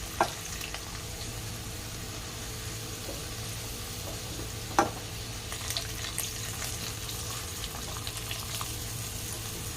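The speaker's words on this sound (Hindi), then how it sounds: "एक एक करके इसी तरह सारी सब्जी को अच्छी तरह से फ्राई करेंगे" Vegetables, cauliflower among them, frying in oil for a mixed-vegetable curry, a steady even sizzle holding for the whole stretch with a couple of sharp pops, no voices.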